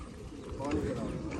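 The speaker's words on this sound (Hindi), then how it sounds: "मेरे ख्याल में अभी कबूतर निकालेगा" Pigeon cooing at a rural home, soft low coos under a steady murmur of background noise and voices, fairly faint and distant over a short stretch.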